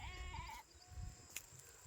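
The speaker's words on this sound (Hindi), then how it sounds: "तो देखिए कितनी ज़्यादा भेड़ें हैं, आप लोग अंदाज़ा लगा सकते हैं।" Sheep in a large flock bleat in a quick wavering call, close and moderately loud, followed by fainter bleats and a brief sharp cry against low background rumble.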